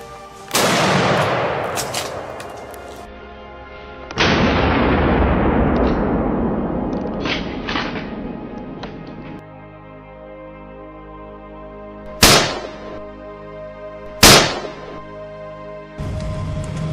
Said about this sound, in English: gunshots rang out across the swamp